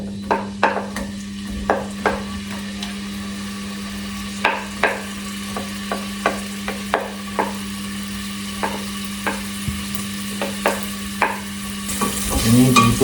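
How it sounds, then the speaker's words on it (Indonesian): Onions sautéing in canola oil for a Slovak-style goulash, a steady close sizzle broken by regular scraping strokes of a spatula against the pan, with a constant low hum throughout. "Ini ditumis sampai dia agak kecoklatan"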